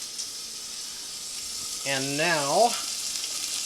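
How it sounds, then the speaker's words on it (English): Water, butter and rice boil together in a pot on the stove, giving a steady close hiss of bubbling, with a short stretch of talking over it. "The water and the other ingredients are boiling."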